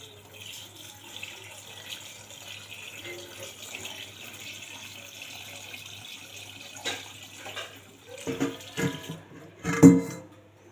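Salt-water brine pours into a jar of mixed pickles, a soft trickling splash that stays quiet for a while, then grows into louder gurgling bursts near the end.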